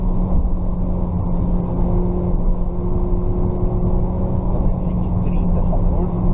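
A 2020 Volkswagen Virtus GTS with a six-speed automatic in sport mode pulls hard around a track, its steady engine drone and road roar filling the cabin from start to finish.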